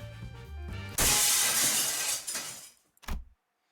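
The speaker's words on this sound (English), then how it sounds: "the chandelier crashed to the floor in full force, making a tremendous noise" A chandelier in the video game Limbus Company crashes to the floor with a loud, sudden shattering of glass that rings and tinkles away over two seconds, followed by one short clattering impact before silence.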